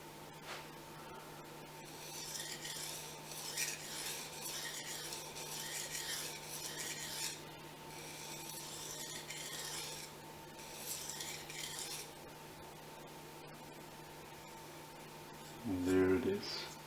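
A Fujimoto honesuki boning knife drawn over Japanese waterstones, with steady rasping strokes repeating for several seconds, then a pause and a few lighter strokes, and a brief louder knock near the end.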